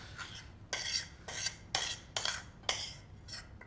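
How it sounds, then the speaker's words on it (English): Black squid ink sauce being pushed through a metal sieve, a series of repeated scraping strokes of utensil against mesh, about six clear passes in a steady rhythm, close and fairly loud with no talking. "now I'm going to sieve the black ink sauce to remove the little pieces"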